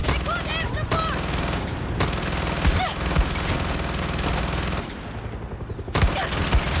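Rapid, continuous automatic gunfire in Far Cry 6, dense and loud throughout, with a few heavier thumps and a brief lull near the end.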